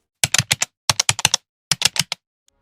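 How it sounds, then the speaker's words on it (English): Quick bursts of computer keyboard typing, close and crisp, in three clusters of rapid keystrokes separated by short pauses, alone with no talk. "His fingers hovered over the keyboard."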